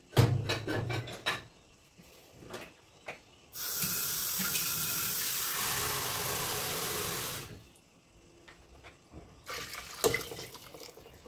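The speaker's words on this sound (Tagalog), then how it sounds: "Dagdagan pa natin yung tubig mga lods." Water gushes from a tap in a steady stream for several seconds into a cooking pan, framed by clattering knocks and handling sounds of cookware before and after.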